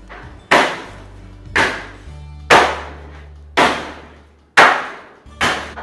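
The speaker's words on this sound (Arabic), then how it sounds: "انا عم اقطع العظم بهالطريقه شقف صغيره" A lamb carcass for Eid al-Adha has its bone chopped into small pieces: six heavy, loud cleaver blows land close by, about one per second, each thudding and ringing out briefly.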